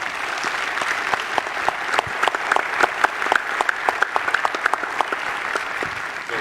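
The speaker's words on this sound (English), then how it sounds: "applause" Conference audience at a 2019 railway signalling event applauds a panel, a steady round of many hands clapping with sharp individual claps standing out, sustained for several seconds with no talk.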